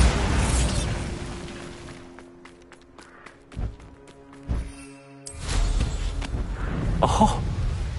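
A Bombarda spell blast in the Hogwarts Legacy video game: loud booming bursts with scattered impacts and pops, one sharp burst rising out of a quieter stretch, then heavy rumbling returns.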